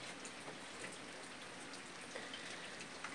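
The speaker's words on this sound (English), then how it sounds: "Here it is, a balmy 78 degrees and a gentle rain." Gentle summer rain falling in the Ozarks, a soft, steady patter of drops with occasional slightly sharper taps, faint and even throughout with no voices.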